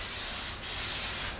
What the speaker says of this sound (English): The basics of using spray glue, pretty simple, just a matter of coating the